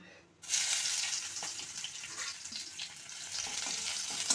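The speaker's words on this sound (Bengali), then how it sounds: "রসুনটা ভাজা ভাজা হলে ডালটা দিয়ে দেবো" Garlic frying in a pan for lentils: after a brief quiet moment a soft, steady sizzle starts and carries on with light stirring scrapes, fairly faint.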